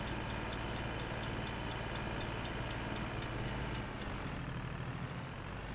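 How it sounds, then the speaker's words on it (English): Tractor mower engine running in a farming video game, a steady mid-pitched drone with faint rhythmic ticking that drops slightly in tone near the end, continuous and moderately quiet with no talking. "Why did my mower stop working?"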